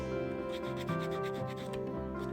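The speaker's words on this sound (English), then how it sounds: "Now sanding again" Continuous rhythmic rasping of sandpaper rubbed back and forth over a painted leather crow keychain, up close and steady with no talking.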